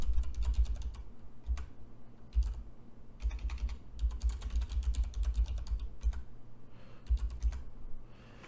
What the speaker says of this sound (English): We're gonna type Python 3 with the name of the file name hello world.py.